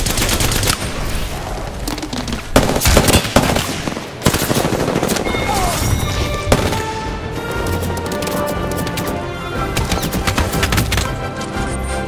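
Gunfire in Apex Legends, rapid automatic bursts and sharp single shots crackling loudly and close, with dense firing early and scattered shots continuing over game sounds.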